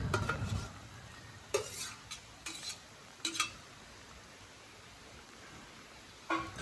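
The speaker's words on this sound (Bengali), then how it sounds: "আমাদের ঝোল ফুটে গেছে, যেহেতু আমরা এই ভাজা গুগলিগুলো এবার দিয়ে দেবো" Fried snails being stirred into a boiling curry in a pan, with a few separate scraping clinks of utensil against metal spread over a soft cooking hiss, close and fairly quiet, no talk.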